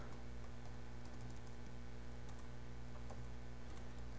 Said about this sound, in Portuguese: aqui então eu vou digitar